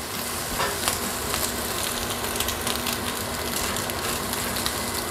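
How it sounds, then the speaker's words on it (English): Bacon strips frying in an 8-inch OXO fry pan give a steady, close, crackling sizzle that runs unbroken throughout, with no talking. "Our experience with the bacon specifically is that these strips cooked out very crispy"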